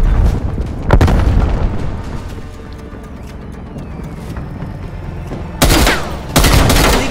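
Frag grenade exploding in Call of Duty Cold War amid gunfire: sharp loud booms near the start and again toward the end, separated by a quieter stretch of distant popping shots.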